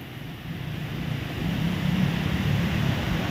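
A damaged river rushes past at a landslide site in Masara, Davao de Oro, a broad, continuous roar of flowing water mixed with wind noise that swells slightly partway through, with no talking.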